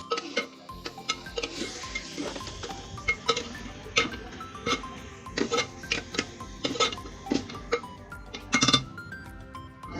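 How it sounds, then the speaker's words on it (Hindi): A metal spoon scrapes and clinks against a pot while stirring rice into sugar for degi zarda, a steady run of sharp taps and ticks at close range with no talk. "चलें अब चलाते हैं अच्छे से चमचा और चावलों को चीनी में मिक्स करते हैं।"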